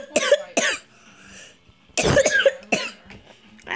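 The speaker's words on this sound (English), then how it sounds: "I don't know if I'm sick or I'm just keep coughing." A person coughing repeatedly up close, two quick coughs followed by a harsher cluster of coughs and a final short one, with brief pauses between.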